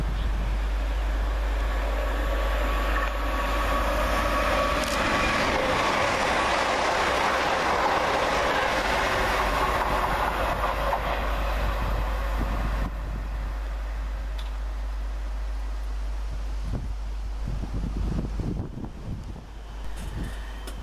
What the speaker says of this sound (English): Here comes another Nova roller now